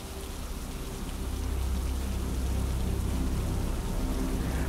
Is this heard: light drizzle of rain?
yes